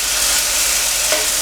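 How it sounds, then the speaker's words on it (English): Mushrooms and a cut tomato sizzle loudly in a pan, a steady close hiss of frying with a faint stir or shift partway through. "the mushrooms have been frying for a couple of minutes, and the tomato goes in cut side down initially"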